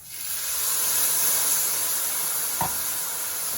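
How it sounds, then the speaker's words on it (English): Lemon juice poured onto toasted risotto rice in a hot pan sets off a steady, bright hiss and sizzle that holds for several seconds, with a brief soft clatter near the end. "You're gonna hear a nice sizzle here."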